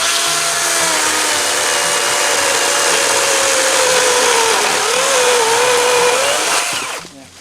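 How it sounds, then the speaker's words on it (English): A DeWalt FlexVolt battery chainsaw cuts steadily through hardwood, a continuous loud whining drone with a wavering pitch as the chain loads in the wood, easing off abruptly near the end. "You can see what I mean about the DeWalt chainsaw. It eats right through it. This is hard wood."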